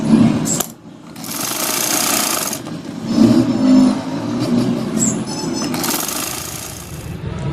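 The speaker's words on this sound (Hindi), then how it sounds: "ये देखें इस तरह से मैंने इसे सिलाई लगा के कंप्लीट कर दिया नीचे तक।" Sewing machine stitching a princess-cut kurti down to the hem, a steady mechanical whir running in several sustained bursts with brief pauses, close and fairly loud.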